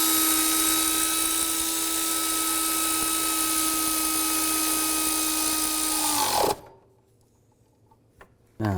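A high-pitched power tool whines steadily as it tightens the new tensioner pulley bolt on a 2005-15 Nissan Xterra, then winds down and stops, leaving near silence and a faint clunk.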